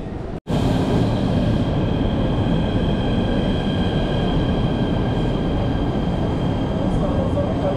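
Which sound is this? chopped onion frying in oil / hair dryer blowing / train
train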